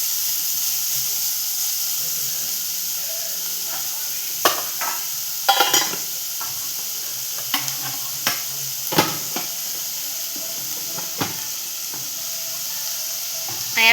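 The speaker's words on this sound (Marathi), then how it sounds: "इथे कांदा चांगल्या प्रकारे असं परतवून घेऊया आपण, त्यामुळे त्याला वास नाही ना कच्च्या कांद्याचा" Onion sautés in a pan over low heat, giving a steady soft sizzle and hiss with scattered scraping clicks of stirring through a quiet kitchen.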